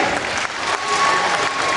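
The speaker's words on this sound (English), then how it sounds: "Nice round of applause for Johnny Saint." A wrestling crowd applauds Johnny Saint after a fall in a match against Bob Anthony, brief steady clapping at moderate level.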